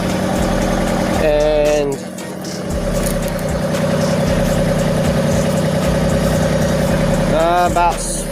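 An LS MT226 tractor with backhoe idles with a steady, loud low rumble close by, while someone talks over it throughout.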